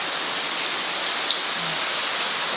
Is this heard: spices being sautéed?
no